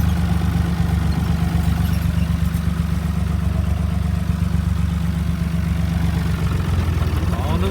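An Allis-Chalmers tractor engine runs steadily at a low, throbbing idle, a continuous close mechanical rumble with light clatter throughout.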